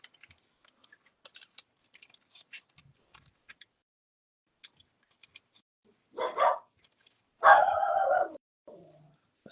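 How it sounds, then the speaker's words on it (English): A dog named Doodle barks in a quiet indoor room, giving two loud close bursts of barks near the end, with soft computer keyboard typing ticking sparsely before them. "That's my dog."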